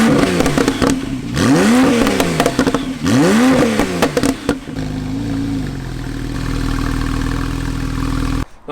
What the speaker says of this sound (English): I almost think that one sounds better than the GT3 RS, but only when you rev it.